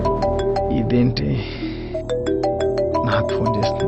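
A phone's ringtone signals an incoming call: a repeating melodic tone sounds loud and close, with background music throughout.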